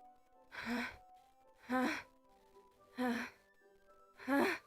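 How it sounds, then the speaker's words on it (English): Sharp, breathy inhales from the horror visual novel Doki Doki Literature Club, four evenly spaced gasping breaths, quiet and close, with no other sound between them. "It sounds like breathing. A sharp inhale, like someone is sucking the air through their teeth."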